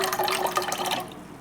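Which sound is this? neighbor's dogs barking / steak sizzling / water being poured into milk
water being poured into milk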